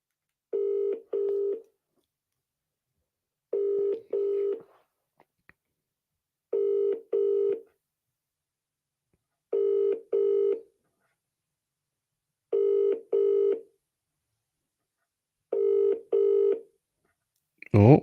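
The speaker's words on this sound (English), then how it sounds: "I'm actually gonna call him. Let me put him on speaker." A phone call rings out over a speakerphone in six regular double-pulse ringback tones separated by silences, clear and steady, with a brief voice at the very end.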